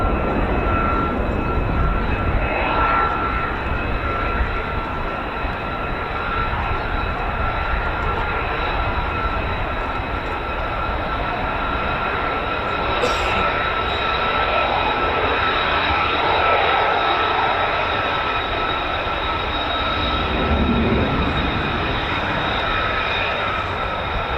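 US Air Force F-15 and F-35 fighter jets of the 48th Fighter Wing at RAF Lakenheath, a loud, continuous jet-engine roar that fills the whole stretch without letting up.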